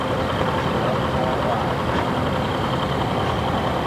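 An English-made ED40 tractor engine runs at a steady, heavy idle at a threshermen's show in Albert City, Iowa, loud and close, with faint talk mixed in.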